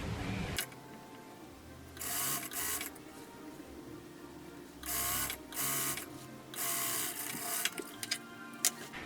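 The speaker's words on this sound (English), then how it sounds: "Now I'm going to stitch the legs of my trousers." A sewing machine stitches the legs of elf-costume trousers in short bursts of rapid whirring, several runs separated by quiet pauses and faint handling clicks, fairly soft and close.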